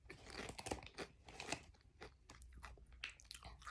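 Salt and vinegar crisps from Kenya crunched and chewed up close, a string of sharp, crackly bites in an irregular rhythm with no talking.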